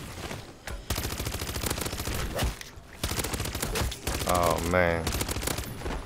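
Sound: weapon gunfire in video game MW3 Zombies

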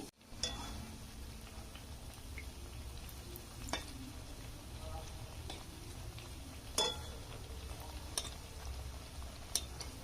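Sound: flatbread (roti) frying in oil

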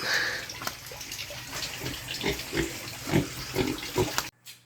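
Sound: pigs

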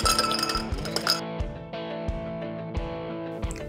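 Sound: fresh ice added into a glass

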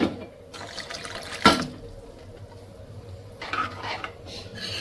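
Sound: hot water poured into lentil curry

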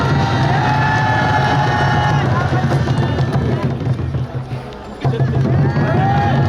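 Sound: crowd cheering at a rally

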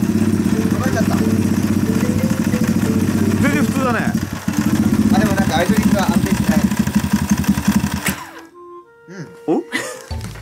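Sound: motorcycle engine idling

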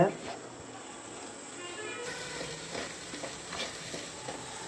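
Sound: cashews frying in ghee

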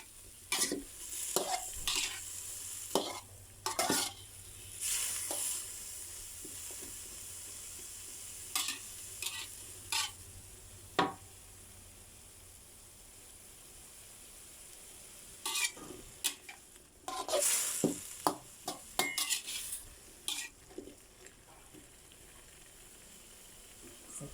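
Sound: stir-frying pineapple in a pan

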